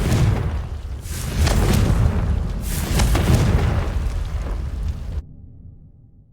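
A Confringo fire spell bursts in Hogwarts Legacy, loud booming explosions rolling one after another for about five seconds before cutting off abruptly into near silence.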